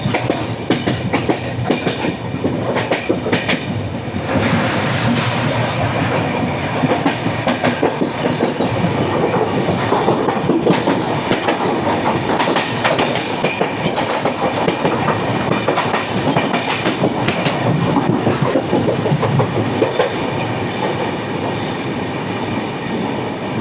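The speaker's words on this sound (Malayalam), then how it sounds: "ഈ ലൈനിൽ ഏതൊരു വണ്ടി വരുന്നുണ്ട്." A train runs past on the neighbouring line, heard from another moving express: a loud, continuous rumble with rapid clickety-clack of wheels over rail joints, sustained for over twenty seconds.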